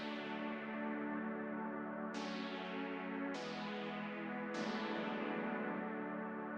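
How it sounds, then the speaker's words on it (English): A powerful, harsh and gritty synth pad from a cover, holding dense sustained chords with bright re-attacks at roughly one-second intervals, thick and loud throughout, with no voices. "we also have this powerful pad that's just joining in the second chorus and continues to play until the end of the song."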